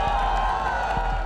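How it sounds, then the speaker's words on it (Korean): A rally crowd in South Korea welcomes a former US ambassador with warm applause, a dense steady wash of clapping and cheering that stays loud throughout. "우리 뜨거운 박수로"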